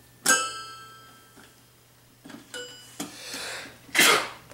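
Two sharp, close sneezes, one at the start and a stronger one near the end, with a piano note ringing out after the first and softer breathy sounds between them.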